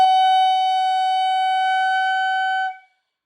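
A single sustained clarinet note, played on an instrument fitted with a short horn, rings loud and steady for under three seconds before cutting off cleanly.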